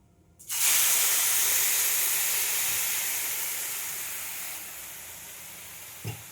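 Milk poured into hot ghee in a pan bursts into a loud, steady sizzling hiss that begins abruptly, then slowly eases as the liquid settles, with a faint clink of a utensil near the end.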